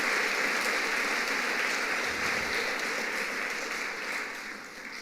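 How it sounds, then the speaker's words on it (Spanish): Steady, dense applause from a church congregation fills the space for about five seconds, holding loud and even before easing off slightly near the end. "Le puedes dar un aplauso fuerte al Señor."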